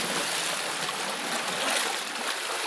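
Water in a flooded mine rushes and gurgles as it drains away, a steady close broadband flow with no voices.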